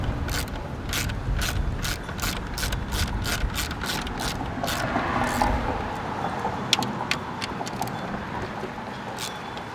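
A hand ratchet works on bolts in the engine bay of a Jeep JKU with the 3.6L Pentastar engine, giving a steady run of close, evenly spaced clicks for several seconds, then a few scattered clicks, with no talking.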